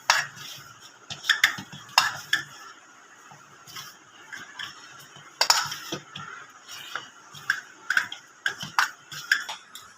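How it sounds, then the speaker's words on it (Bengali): Coconut and semolina dough being kneaded by hand at close range, with soft squishes, slaps and small clicks coming in irregular bursts with quiet gaps between them. "এবার আমি কিছুক্ষণ মেখে নেব।"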